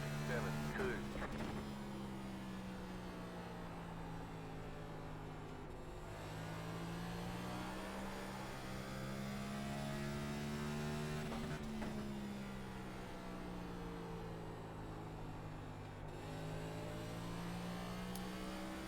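Race car engine lapping Richmond Raceway in a racing video game, a steady droning whine that rises and falls with throttle through the corners, continuous and fairly loud, with a voice talking over it.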